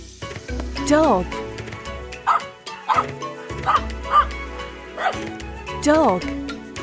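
A dog barks repeatedly nearby, with a string of sharp, loud barks and yips spread unevenly across the whole stretch.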